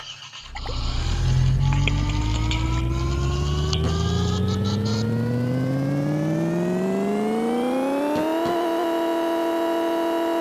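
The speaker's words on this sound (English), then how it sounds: "I'll run a dyno for you guys right now." A car engine in a racing video game revs up on a dyno, starting low and climbing smoothly in pitch for several seconds before leveling at a high, loud whine, heard alone.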